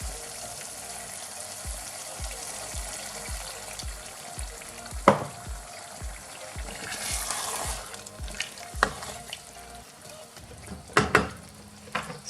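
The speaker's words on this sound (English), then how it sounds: "So I'm just going to add half a cup of water." Half a cup of water hitting lamb keema frying over medium gas, loud sizzling with rhythmic stirring scrapes and a few sharp clinks from the pan, no voices.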